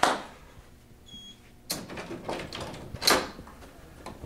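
A door is opened indoors, with a sudden sharp latch click and bang followed by rattling and scraping knocks, fairly close and otherwise quiet, with another loud knock near the end.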